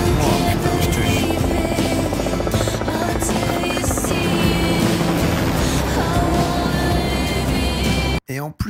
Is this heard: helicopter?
yes